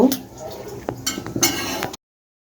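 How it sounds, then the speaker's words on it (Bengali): A cooking pot set down on a stove in a home kitchen, with a couple of sharp metallic knocks and clinks over quiet background, followed by silence. "দেখুন আমি চুলায় একটি পাতিল বসিয়ে দিয়েছি।"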